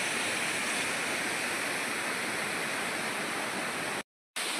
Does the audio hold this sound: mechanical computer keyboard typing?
no